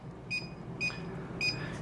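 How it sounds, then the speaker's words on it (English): A kitchen oven timer, set for biscuits baking at 425 degrees, gives three short, bright electronic beeps at a steady interval over a faint room background, with no talking. "Okay, the timer is off."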